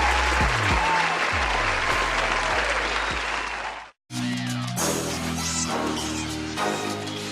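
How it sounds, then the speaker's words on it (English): Applause sound effect: a dense burst of clapping and crowd cheering that cuts out briefly, then returns as loud layered clapping, with no speech. "here's a round of applause."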